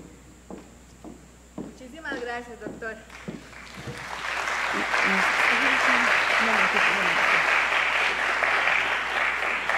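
Conference audience applauding a speaker, a broad steady wash of clapping that swells in after a few seconds of talk and carries on loud to the end.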